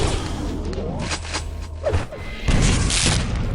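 Rocket impacts in a Quake Live competitive duel: dull booming thuds and a sharper explosive blast near the end, mixed with weapon whooshes and in-game mechanical noises, loud and close.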